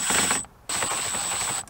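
Somewhere in a Toyota Tundra, a ratchet fitted with an extension backs out 10 mm screws, making a close, steady mechanical whir that is cut by one short pause and then resumes.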